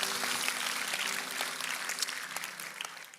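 A church congregation claps steadily during a sermon, a dense patter of applause that slowly thins out, with a faint sustained tone underneath.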